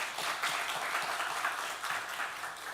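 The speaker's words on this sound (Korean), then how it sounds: "박수로 환영하시겠습니다." A church congregation at a Trinity Sunday service applauds to welcome newcomers. The clapping is faint and sounds somewhat distant, a brief, even patter with no voices over it.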